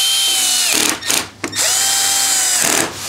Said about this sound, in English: and then start getting the screws in